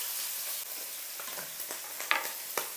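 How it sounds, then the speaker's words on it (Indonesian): Chicken liver and gizzard sauté in hot coconut oil, giving a dense, close, continuous sizzle with occasional sharp pops and stirring scrapes. "Pertama-tama aku mau tumis atau masak ati empelanya."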